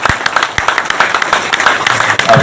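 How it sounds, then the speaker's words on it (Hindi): An audience in a hall at a community career guidance event applauding with loud, dense, sustained clapping from many hands, close and continuous. "इनका ताली बजा के अभिनंदन करें"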